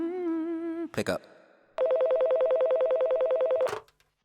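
Telephone ringing: a rising electronic tone, a brief click, then a loud warbling electronic ring pulsing rapidly for about two seconds before cutting off.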